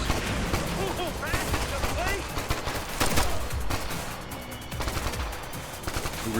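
Dense, continuous gunfire from Ghost Recon Future Soldier, with sharp repeated shots and machine-gun bursts. A loud combat din fills the whole stretch, and voices shout commands over the firing.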